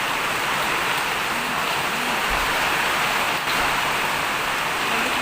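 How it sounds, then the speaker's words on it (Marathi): Heavy rain pours down during a stormy cyclone, a dense, loud and constant rushing hiss with no breaks, close by and without voices. "खूप जोरात पाऊस चालू झाला आहे"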